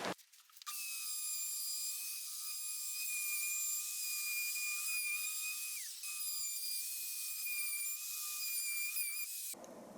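A router cuts a wooden cutting board with a shallow bit, giving a loud, steady, high-pitched motor whine up close. It runs unbroken for about nine seconds with no talking, then stops abruptly.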